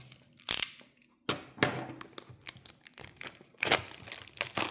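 Sharp bursts of crinkling plastic film being pulled and torn off a box of MEGA Brave expansion packs, loud and close, with short quiet gaps between the rustles.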